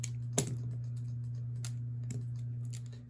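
Cherry switches are pulled out of a mechanical keyboard one by one. A few sharp plastic clicks and snaps sound over a steady low electrical hum, spaced irregularly and fairly close.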